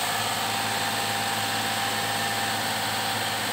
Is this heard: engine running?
yes